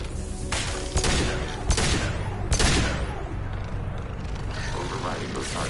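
Gunfire in the Mass Effect 2 video game: repeated sharp bursts and booming shots over dense battle noise, loud and continuous.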